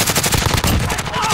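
Rapid automatic gunfire from a Warzone duos match sounds as dense, overlapping loud bursts that continue with no break, with a faint voice mixed underneath.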